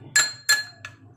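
Metal spoon clinking against a glass while stirring cornflour into water for corn soup: three or four bright, ringing taps in an irregular stirring rhythm, close and clear, with no talking.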